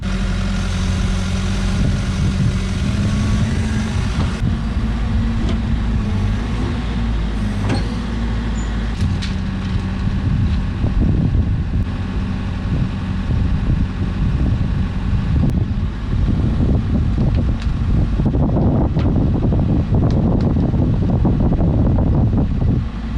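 A Bobcat E60 six-ton excavator rumbles loudly and steadily as it runs over a drain pipe, with low engine drone, shifting track clatter, and wind buffeting the microphone throughout.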